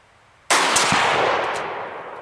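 A single sharp rifle shot from a .222 loaded with Lapua ammunition at an outdoor shooting bench, sudden and loud, followed by a long rolling echo that slowly fades.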